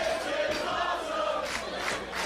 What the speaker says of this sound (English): You can hear this crowd showing their respect for everyone here.